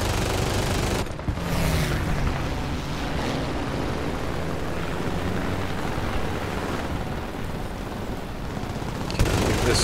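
Sustained aircraft machine-gun fire from an M.S.406C1 fighter in War Thunder air arcade combat, a dense continuous roar of rapid shots with engine drone, loud and steady for nearly the whole stretch, briefly cutting out early on.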